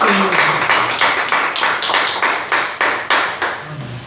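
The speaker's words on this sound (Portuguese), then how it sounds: "Dê uma salva de palmas bem forte ao Senhor" Loud rhythmic clapping from a church congregation, crisp sharp claps in a steady beat of about three per second, close and prominent, slowing slightly near the end.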